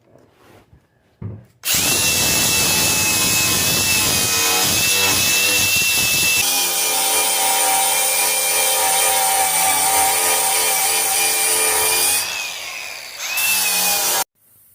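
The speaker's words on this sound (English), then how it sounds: "get a grinder, get it smoothed out, see how it looks." An angle grinder smooths welds on the sheet metal of a 1967 Chevelle, running loud and steady for about twelve seconds with a shifting whine, then cutting off briefly before spinning up again near the end.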